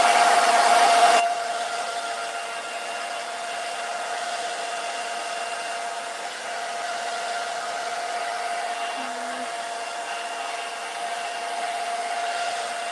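Hair dryer blowing steadily on a freshly pulled gel print, louder at first and then holding a constant whirring hum.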